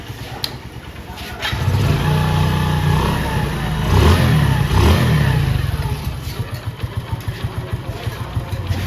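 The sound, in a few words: Hero 100cc motorcycle engine starting and revving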